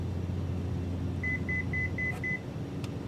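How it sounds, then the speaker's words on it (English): Five evenly spaced electronic beeps from a Cessna C208 low RPM alarm in the MSFS 2024 flight simulator, sounding steadily over a constant engine drone in the cockpit, followed by a couple of faint clicks. "That's actually a low RPM alarm."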